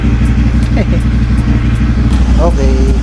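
A warmed-up motorcycle engine idles loudly and steadily close by, with a continuous low rumble and brief voices under it.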